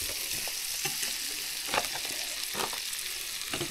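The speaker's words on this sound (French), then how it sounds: "je vais faire revenir des lardons" Lardons sizzle steadily in a pan over a wood fire, a continuous crackling fry with small pops and occasional louder spits throughout.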